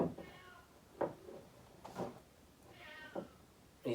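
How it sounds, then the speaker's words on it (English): A cat meows several times in short separate calls, each one fairly faint and a little distant, with quiet room sound between them. "He makes that meowing sound."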